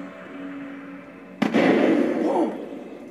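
Grenade blast in the zombie video game The Walking Dead Survival Instinct: a single sharp, loud detonation cuts through quiet ambience, followed by about a second of rumbling debris that slowly fades.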